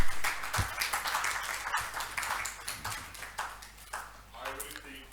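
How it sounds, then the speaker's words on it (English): A conference audience at a bank directors' summit claps in scattered, uneven bursts throughout, with a voice talking over the applause. "I really think Mr. Bode deserves a better round of applause."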